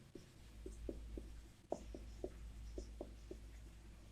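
Numbers being written by hand during a maths lesson, a series of short, distinct scratchy pen or chalk strokes in an irregular rhythm over a steady low hum, close and fairly quiet, with no talk.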